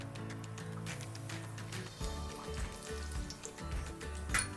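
Cumin seeds, chopped ginger and green chillies sizzling in hot oil, a steady crackling fry under faint background sound.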